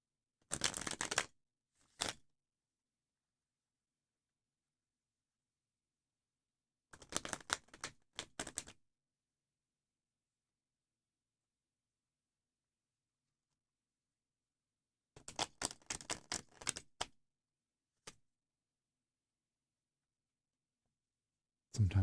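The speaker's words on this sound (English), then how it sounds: "I'm going to shuffle" Tarot-style cards shuffled by hand for a one-card draw, in several short bursts of riffling and tapping separated by long quiet gaps, close and fairly soft.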